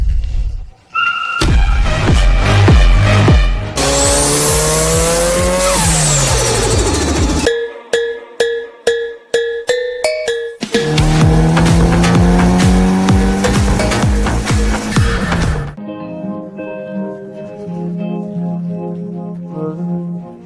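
A Mitsubishi Lancer Evolution rally car roars close and loud, its engine revving and dropping through gear changes with squealing tires, and no one speaks.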